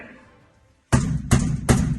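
Police pound on a door: after a short quiet stretch, three heavy, loud thuds land about a third of a second apart, booming close and alone.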